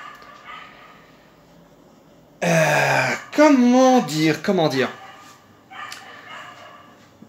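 Early on a Saturday morning, a neighbour's dog barks in the next garden, giving several loud, close, strained barks and yelps in a tight burst mid-way, with fainter barking before and after. Someone talks briefly over it.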